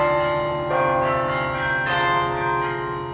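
Carillon bells of the University of Florida Century Tower ring out clearly, a few struck bell tones overlapping with long, resonant decays, heard alone.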